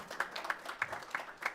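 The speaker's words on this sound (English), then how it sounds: "Yeah, applaud." Applause at a city council meeting: a small, distant group clapping sparsely in a loose, even rhythm, fairly faint.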